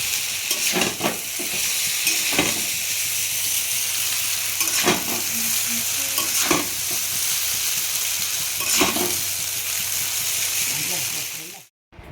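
Egg paneer chowmein with paneer, capsicum, beans, onion and chilli sizzles steadily in a hot pan, with repeated scraping stirs and clinks of a spatula throughout and someone speaking over the frying.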